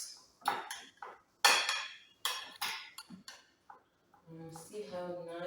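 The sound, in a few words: dinner plates being handled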